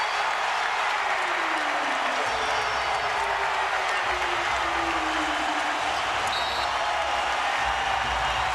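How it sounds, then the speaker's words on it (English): Basketball arena crowd in an NBA playoff game, Miami Heat, roaring and applauding after a buzzer-beating three-pointer; a sustained loud wash of cheering and clapping throughout, with no clear voice on top. "The shot clock expiring with the ball in the air, and the crowd erupts."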